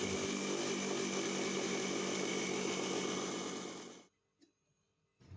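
A grinder whirs loudly and steadily, milling warm roasted flaxseed for alsi pinni, then cuts off abruptly, leaving near silence with a couple of faint knocks.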